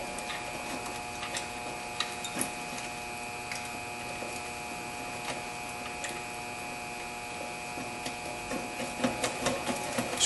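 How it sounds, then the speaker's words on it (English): A ratchet snugs down a 12mm bolt on a valve cover in a faint, steady run of small clicks over a constant background hum, with a slightly busier burst near the end. "then we're just going to snug it down with the ratchet"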